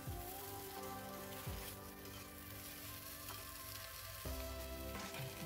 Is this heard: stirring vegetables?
yes